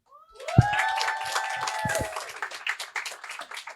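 A crowd claps as Tamika Mallory is introduced: scattered hand claps build into applause, mixed with cheering voices and a sustained vocal whoop near the start.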